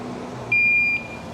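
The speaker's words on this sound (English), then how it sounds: "So they got an alarm on there." A Whizz e-bike's alarm gives a single sharp electronic beep of about half a second, loud and close over a low background hum.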